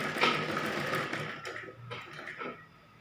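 A sewing machine stitches a baby frock for a one-to-two-year-old in short, rapid bursts of close, buzzing needle clatter separated by brief pauses, with no speech.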